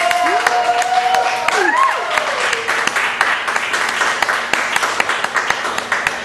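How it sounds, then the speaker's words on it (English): Audience applause at a live poetry reading in a Chicago venue, a crowd clapping steadily and fairly close, with a whistle or whoop rising early and claps thinning toward the end. "That's when y'all clap again."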